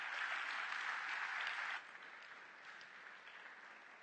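Church congregation applauding, a steady wash of clapping that stays loud for nearly two seconds, then drops to a quieter, thinning patter that continues to the end.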